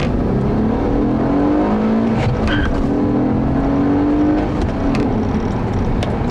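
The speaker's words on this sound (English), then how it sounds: "See here, this car accelerates very well." A 2006 Honda Accord V6 with a 6-speed gearbox accelerates hard, its engine note climbing steadily in pitch through the rev range, loud and close from inside the car, with no talking.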